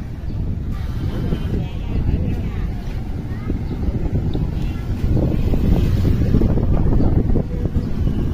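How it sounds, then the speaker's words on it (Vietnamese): Wind buffets the microphone in a continuous low rumble around an electronics market in District 10, Ho Chi Minh City, growing a little stronger in the second half, with faint background activity underneath. "Ở đây gió rất mát."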